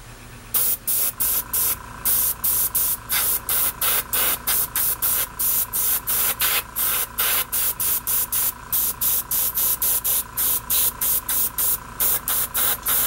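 Airbrush spraying paint onto a part for a Baldwin Motion Camaro, heard as a long run of short hissing bursts in quick, regular pulses, loud and close with no talk.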